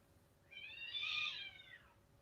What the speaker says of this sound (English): 2 cats just fighting in the yard there